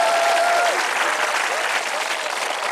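A congregation at a church service claps and cheers in a dense, steady burst of applause that fills the room for a few seconds.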